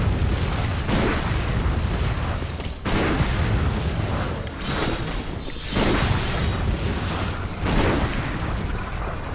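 Dense bursts of gunfire and heavy blasts from the video game Bloodborne during a boss fight, loud and continuous, with rhythmic surges and brief dips across the whole stretch.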